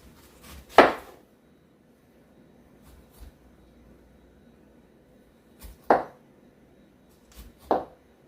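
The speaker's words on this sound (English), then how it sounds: "then we cut off the top" A knife cuts the top off a whole pineapple, giving three crisp, separate chopping thuds spaced seconds apart, close and fairly loud against a quiet kitchen.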